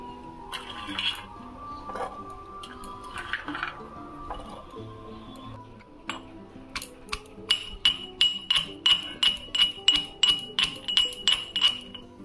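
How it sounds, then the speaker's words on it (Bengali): Garlic and ginger are pounded in a mortar with a pestle. A few scattered knocks come first, then a quick rhythmic run of about a dozen sharp, ringing metallic strikes. "आमी हामल दिस्तार मध्य पेस्ट करब, बेटे नेब"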